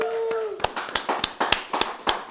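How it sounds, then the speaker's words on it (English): Live studio audience on a talk show breaking into a sparse round of applause, several distinct claps ringing out at a steady beat after a brief sustained tone fades. "If we can just give him a round of applause"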